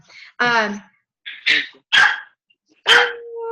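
A dog barks sharply four times in quick irregular succession, loud and close, the barks mixed with yips and a whining edge.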